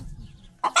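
Hens at a small egg-selling chicken farm give a couple of short, close clucking bursts near the end, after a stretch of faint low background noise; nobody speaks.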